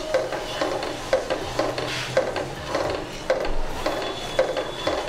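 A spoon scrapes and clinks against a pan while stirring sugar and water into syrup, a steady rhythm of repeated knocks roughly every half second, close and clear.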